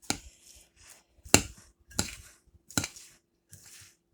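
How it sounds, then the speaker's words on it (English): Coleslaw stirred with dressing in a bowl in short bursts, a few scraping, clinking strokes of a utensil against the dish with quiet gaps between them. "the more, you stir it, the dressing pulls it"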